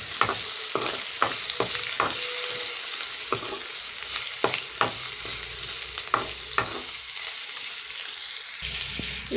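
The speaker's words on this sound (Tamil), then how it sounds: "நான் இப்போ இதோட வெங்காயம் சேர்த்துடுறேன்" Onion, green chili and ginger sizzle steadily in a hot pan during stir-frying, a constant close frying hiss broken by frequent sharp scraping and stirring clicks from a utensil.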